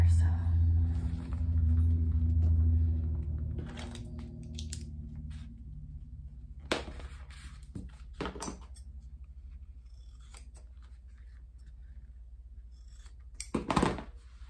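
Scissors snip through a sheet of cork while sewing a coffin wallet, giving a few sharp, close cuts spaced apart over a steady low hum, with a louder snip near the end and talking at the start.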